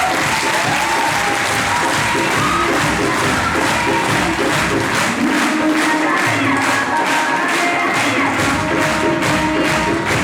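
A packed hall audience at a speakers' meeting claps loudly and continuously, with cheering and shouts mixed into the dense, sustained roar of hands.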